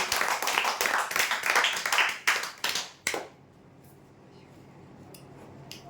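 A short burst of applause from a small audience at a lottery prize draw, about three seconds of brisk clapping that tapers off abruptly into a quiet room.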